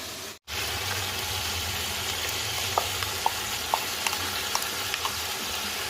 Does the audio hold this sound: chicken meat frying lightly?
yes